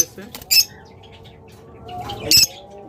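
Caged pet birds sold in pairs give two short, loud squawks with brief wing flutters, separated by a quieter stretch of low background murmur.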